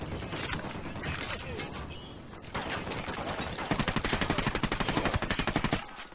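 Rapid automatic gunfire in Tom Clancy's Ghost Recon Wildlands, with scattered shots early, then a sustained fast burst like a minigun rattling loudly and evenly for a couple of seconds before cutting off.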